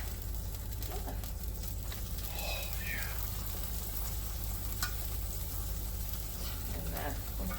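Goat quesabirria tacos frying in a pan, a steady close sizzle with occasional crackles and spatula scrapes, and a person talking at times over it.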